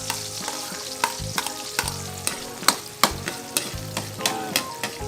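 Garlic frying in oil in a pan for Filipino squid adobo gives a steady close sizzle, punctuated by sharp, rhythmic clacks of a utensil stirring against the pan, with no voices.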